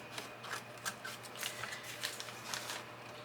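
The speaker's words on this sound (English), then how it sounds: "I'm going to use my new handy dandy scissors." New scissors snip through paper for junk journal tags, a quiet series of short crisp cuts repeating at an irregular rhythm, close by, with no talking.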